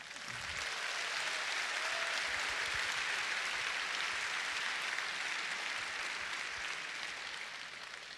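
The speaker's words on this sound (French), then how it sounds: "il n'est pas applaudi tous les jours comme ça" Sustained audience applause at a French political debate in May 2019, dense and steady throughout, loud and enveloping without pause.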